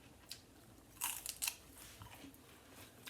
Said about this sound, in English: If you hear me crunching, I'm crunching on celery.